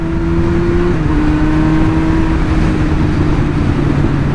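A motorcycle ridden steadily on a road, its engine droning loud and constant throughout with a slight pitch shift near the start, no talking.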